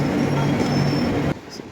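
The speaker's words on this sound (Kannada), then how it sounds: "ಇವಾಗ ಬರ್ತಾ ಇರೋದು ನಮ್ಮ SNVTಯಿಂದ ನ್ಯೂ ಜಲ್ಪಾಯ್ಗುರಿ ಹೋಗೋ ಅಮೃತ್ ಭಾರತ್ ಎಕ್ಸ್ಪ್ರೆಸ್" Amrit Bharat Express from SNVT to New Jalpaiguri rumbles past near Ambur, a loud, steady roar of rolling train noise that cuts off abruptly, leaving quieter ambience.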